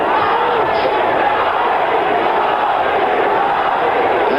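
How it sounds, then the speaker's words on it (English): A large arena crowd at a Muhammad Ali boxing match chants in unison, a loud continuous roar of many voices with rhythmic swells, heard as broadcast crowd noise. "you hear the crowd in unison chanting Ali, Ali"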